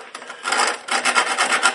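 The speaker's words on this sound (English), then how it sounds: "Take a sanding drum, it's like emery paper," A garnet sanding drum grinds a metal computer case panel in short abrasive rasping bursts, close and harsh, with brief pauses between strokes and no talking.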